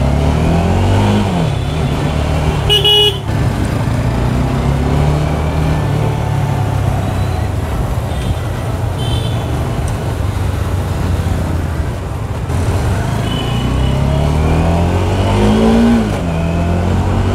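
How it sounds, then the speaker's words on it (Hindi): Heavy evening traffic in Ranchi surrounds a Bajaj Dominar 400, with dense engine drone, revving vehicles passing close by and occasional short horn-like tones, continuous and loud throughout. "शाम शाम को तो इधर एक्सट्रीम लेवल का ट्रैफिक रहता है भाई लोग।"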